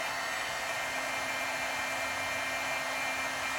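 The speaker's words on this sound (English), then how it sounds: "Because the heat gun can melt the glue." Heat gun blowing hot air over embossing powder on a small paper craft piece, a steady, loud broadband whoosh that holds constant throughout with no pauses.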